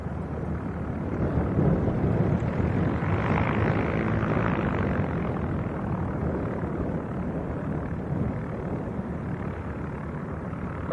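A Piper Cherokee light aircraft at an airfield, its engine a steady, broad droning rumble that holds at moderate loudness for about eleven seconds, swelling slightly early on and then easing a little.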